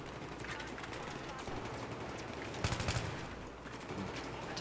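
Rapid bursts of automatic gunfire crackle through a Battlefield 3 firefight, dense volleys rising and falling with a sharper burst near the middle, while players talk over the shooting.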